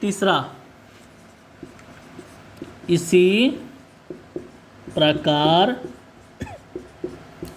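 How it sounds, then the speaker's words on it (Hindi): A pen scratches across paper while someone works through an arithmetic progression problem, short bursts of writing between stretches of talk, close and clear. "अब इसी तरह से इसी प्रकार लिखेंगे"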